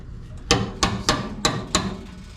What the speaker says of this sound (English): Metal seam buster is what I call it.